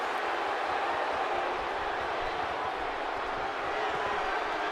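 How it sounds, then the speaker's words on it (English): A large arena crowd in the WWE 2K18 wrestling game backs Alexa Bliss with a steady, broad roar of cheering that holds at an even level throughout. "Crowd now getting behind her."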